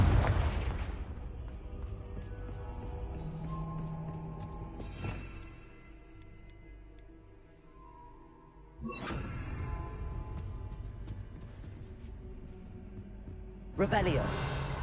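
Confringo blasting spell from Hogwarts Legacy going off in loud fiery bursts, near the start and again around nine and fourteen seconds, each swelling into a rumbling roar over game music and ambience, with a voice speaking early on.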